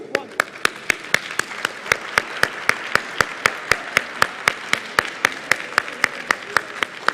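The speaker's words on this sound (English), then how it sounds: "ladies and gentlemen, get ready to clap for group 2." Steady, rhythmic clapping with sharp, evenly spaced claps, like a small group clapping in unison at a women's conference, fairly close and loud.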